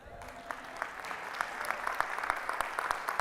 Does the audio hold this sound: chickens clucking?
no